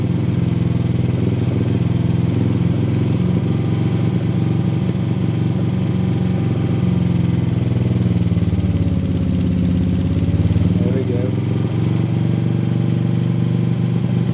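An old vehicle's engine runs after a cold start in below-zero temperatures with the choke being eased open, a steady, close, throbbing idle with a slight clatter and the pitch sagging briefly near the end.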